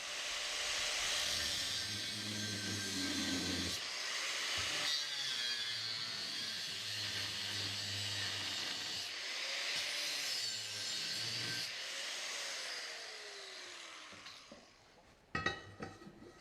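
A power cutter slicing through a metal piece of a welding jig for a sport quattro replica, a long continuous whining grind that winds down near the end, followed by a few clanks.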